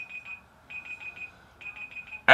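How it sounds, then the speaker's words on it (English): An electronic quiz game buzzer sounds in three quick bursts of repeated high beeps separated by short pauses, fairly faint and alone before a sudden loud noise at the very end. "There is the buzzer."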